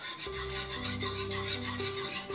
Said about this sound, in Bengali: অনবরত নেড়ে যেতে হবে হুইটস দিয়ে।